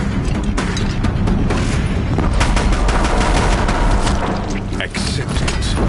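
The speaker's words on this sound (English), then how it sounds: "If the Deathbringers keep firing," Deathbringer machines in Horizon Zero Dawn fire guns in a dense, continuous barrage of booming shots and rumbling blasts that layer over a low roar and stay loud throughout.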